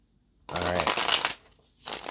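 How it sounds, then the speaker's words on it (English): A deck of tarot cards is shuffled close up, a quick riffling flutter of stiff cards followed by a brief pause and a second short shuffle. "One more shuffle"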